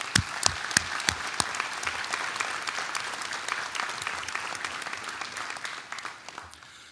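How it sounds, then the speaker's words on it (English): Applause from the crowd at PCOM South Georgia's 2023 commencement ceremony, with several sharp, close individual claps at the start over a dense, sustained round of clapping that gradually fades. "Please join me in a round of applause for these guys."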